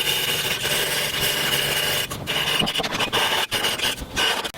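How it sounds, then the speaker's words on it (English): A metal file rasps along a freshly cut steel edge on a bandsaw stand build, with steady scraping strokes at first, then choppier passes broken by short pauses, close and loud with no talking. "the files really clean things up"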